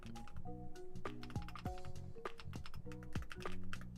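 Rapid typing on a computer keyboard, a quick irregular stream of close, crisp key clicks and taps running throughout, with some musical tones playing underneath.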